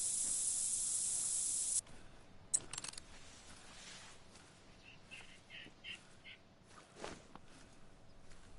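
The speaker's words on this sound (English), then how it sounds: "And I'm going to put some more spray on." A scent spray in the hunting game theHunter: Call of the Wild lets out a sharp, steady hiss for about two seconds, then soft footsteps and faint game ambience follow.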